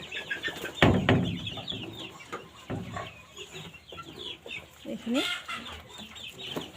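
Around a hundred chicks about a month old clucking and cheeping in a room, a busy cluster of bird calls under a voice speaking.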